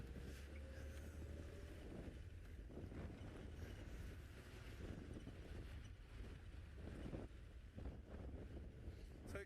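Outdoor wind on a chilly evening rushes steadily and faintly across the microphone, a continuous low buffeting with no voices.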